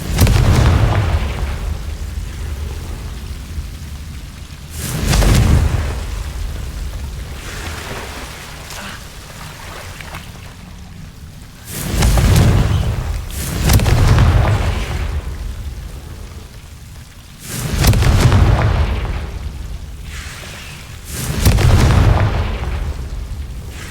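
Confringo fire spells in Hogwarts Legacy go off as deep booming blasts, about six heavy bursts spaced a few seconds apart over a hissing, rain-like background.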